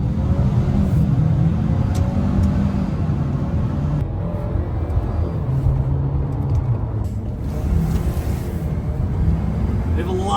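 Ford Maverick Lobo pickup truck on the road, a steady engine and road rumble continuing loud and close throughout with no pauses.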